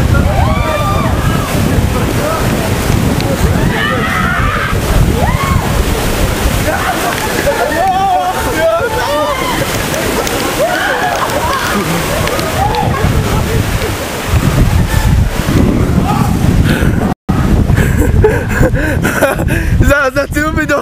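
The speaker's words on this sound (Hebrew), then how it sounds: "יואו, איזה גל." Large waves and strong wind during the 2004 tsunami, a continuous roaring wash of surf and sloshing water with heavy wind buffeting on the microphone and excited voices talking throughout.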